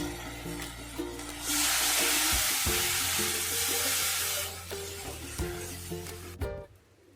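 Poppy seed paste and prawns stir-fry in a pan, a loud steady sizzle swelling in the middle with scraping spatula knocks and clatters throughout.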